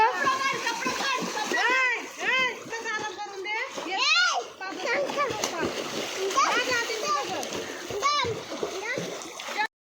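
Three children swimming at a farmhouse splash around in water, with repeated sloshes and splatters mixed with their excited high-pitched voices and shouts.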